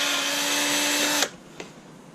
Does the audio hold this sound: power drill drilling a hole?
yes